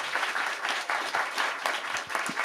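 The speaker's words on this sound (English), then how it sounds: "Let's give a round of applause to Jennifer Friedenbach" Audience applause for a speaker from a homelessness coalition at a public event, a dense, steady wash of many hands clapping that carries on throughout without letting up.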